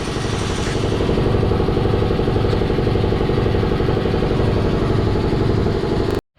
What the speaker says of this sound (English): And of course the air compressor comes on.